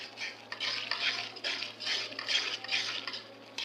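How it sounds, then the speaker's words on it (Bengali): Ground turmeric, coriander-cumin and chili powder stir-fried in a pan for a chicken bhuna, with rhythmic scraping strokes of a spatula over a soft sizzle, close and steady, no talking. "এখন মশলাটা ভালো মতো কষাই নিব।"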